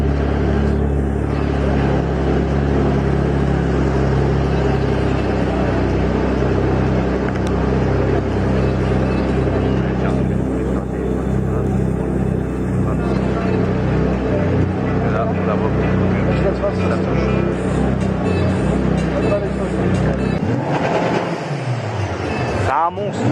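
A supercar engine starts and runs at the Retromobile show, a loud, steady mechanical roar lasting throughout with a brief dip near the end, amid the hall's ambient noise.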